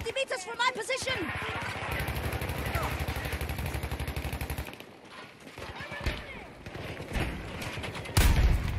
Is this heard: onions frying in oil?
no